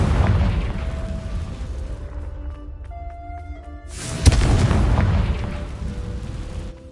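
Confringo fire-blast spell in Hogwarts Legacy on PS5: a sharp booming burst partway through, with a rumbling tail, over steady game ambience and tonal music.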